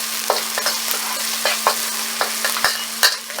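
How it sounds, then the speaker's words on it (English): Ginger and garlic stir-frying in a piping hot wok, a continuous close sizzle broken by sharp scraping clacks of the spatula tossing the aromatics at an uneven, quick pace. "we got our wok piping hot, real fast"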